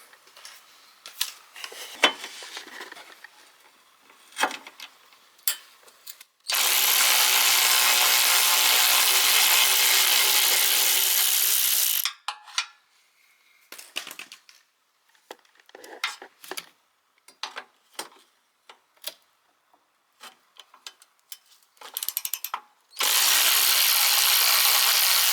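Ratchet with an extension working the headlight bolts on a 1998 Honda Accord: scattered close clicks and taps, broken by two long, loud steady whirring bursts of a power tool.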